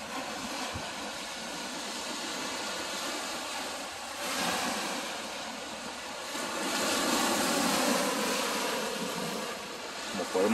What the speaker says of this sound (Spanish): se oye el golpe igual que las olas del mar